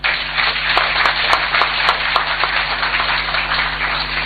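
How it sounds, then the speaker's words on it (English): A crowd at a Ghanaian community meeting in Zambia gives President Mahama a round of applause: thick, continuous clapping from many hands, steady and fairly loud for the whole stretch. "Another round of applause for him."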